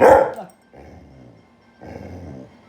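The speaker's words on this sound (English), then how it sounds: "now he's going to bark" A dog lets out one loud, close bark, followed by two quieter stretches of low growling and whining grumbles.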